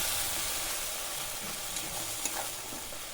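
Spices with salt, turmeric and Kashmiri chili powder fry in a pan, a dense, constant sizzle holding steady throughout with one faint scrape near the end, close and unbroken by any voice.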